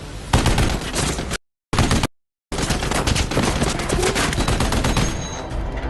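Rapid bursts of heavy gunfire in an action film, loud and dense, with two brief dead-silent gaps before the shooting resumes and continues steadily.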